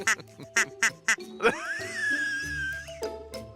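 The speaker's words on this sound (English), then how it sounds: "There's a pair of ducks there." A pair of ducks quack in a quick run of sharp, repeated calls, then give one longer drawn-out call, fairly close, with some voices in the background.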